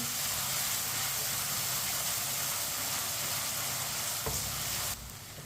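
Onions fry over medium heat with a steady, loud sizzle and hiss while a spoon stirs and scrapes the pan, continuing close and unbroken until the sound drops abruptly near the end.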